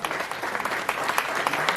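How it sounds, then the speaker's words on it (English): A press-conference audience at an awards event gives a brief, fairly soft round of applause, with individual claps standing out from the steady patter. "Thank you for one resounding round of applause"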